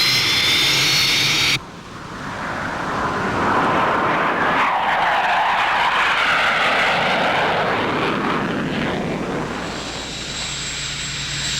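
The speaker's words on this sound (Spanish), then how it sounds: "Un jet de la NASA especialmente equipado nos permite observar desde el aire sus más destacadas" A specially equipped NASA jet roars overhead, loud and near, its engine whine sweeping down in pitch as it passes, then a steady airborne drone.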